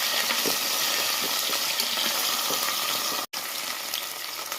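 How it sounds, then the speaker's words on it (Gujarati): Potatoes tip into a hot spiced tempering with asafoetida and sizzle loudly and continuously while being stirred, a dense close crackle that drops out for a split second before carrying on. "હવે એની અંદર આપણે બટાકા એડ કરી દઈશું અને હલાવી દઈશું"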